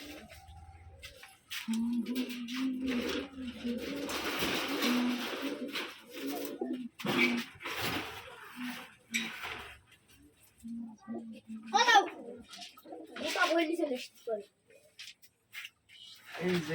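Caged Rajshahi Giri pigeons coo repeatedly at close range, their low rolling calls coming in bursts while someone talks over them throughout.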